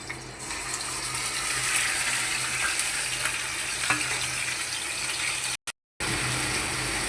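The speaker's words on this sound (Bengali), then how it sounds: "আগে থেকে বেটে রাখা আদা বাটা, রসুন বাটা, পেঁয়াজ বাটা, মরিচ বাটা, জিরে বাটা, ওগুলো দিয়ে দেবো তেলের ভিতরে।" Ginger, garlic, onion, chilli and cumin pastes fry in hot oil for a potato and bitter gourd curry, giving a steady, close hissing sizzle that drops out briefly near the end and then resumes.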